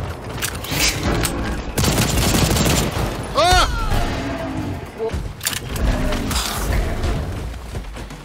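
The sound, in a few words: gunfire in video game Second Extinction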